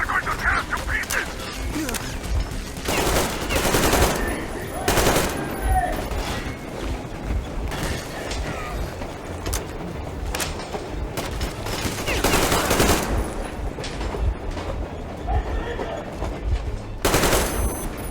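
Sustained machine gun fire in Metro Exodus, loud and dense, rattling almost continuously with heavier bursts spiking throughout amid a chaotic battle din.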